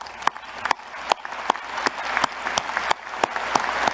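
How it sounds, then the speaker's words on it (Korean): Audience applause at a government defense strategy committee meeting, a steady broadband patter of many hands with sharp regularly spaced claps standing out, moderately loud and continuous for the whole stretch. "여러분 큰 박수 부탁드립니다"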